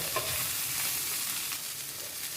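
Okra (lady's finger) sautéing with turmeric in a pan, a soft steady sizzle with faint stirring scrapes, fairly quiet and continuous with no voices.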